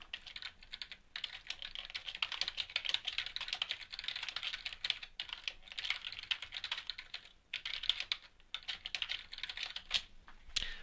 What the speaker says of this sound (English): I'm just going to type in my message directly as XML.